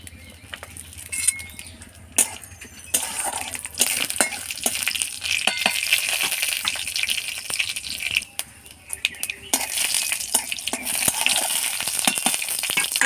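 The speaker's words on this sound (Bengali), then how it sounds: "ফোড়ন করে নেব 5 ফোড়ন আর শুকনো লঙ্কা।" Panch phoron and dry red chillies crackle in hot oil in a heated kadai, with frequent metallic clinks and scrapes of a utensil against the pan over an uneven frying sizzle.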